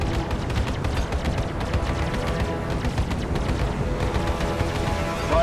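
Weapon fire in a space-combat dogfight in the video game Arena Commander, a dense, continuous barrage of shots and blasts running loud and unbroken for the whole stretch.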